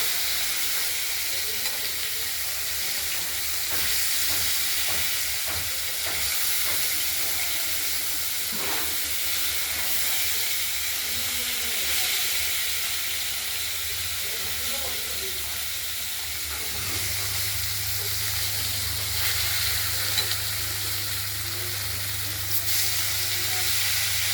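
Salted, turmeric-coated katla fish pieces fry in oil in a wok, a continuous close sizzle and hiss with occasional stirring clatter, a low steady hum joining partway through, no voices.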